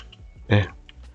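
Computer keyboard being typed on to enter a bot command, a short burst of key presses with one louder clack in the middle, close and brief.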